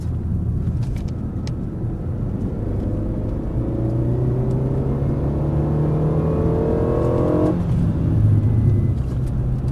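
A car accelerates out of a corner on the Dreux racing circuit, its engine note rising steadily in pitch for several seconds before easing off, loud and close from inside the car.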